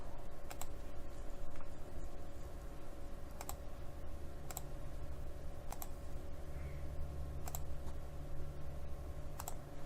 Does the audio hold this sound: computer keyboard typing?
yes